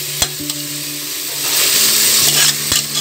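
Tomatoes with salt sizzle in a hot pan while being stirred and mashed, a steady frying hiss that swells midway, punctuated by a few sharp scraping clicks of the utensil.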